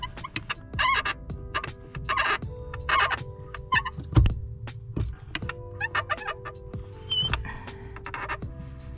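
Squeaky clutch pedal on a 2014 Subaru WRX, pressed repeatedly by hand, giving a run of high, creaky squeals and chirps in uneven bursts, close up with a solid thump partway through.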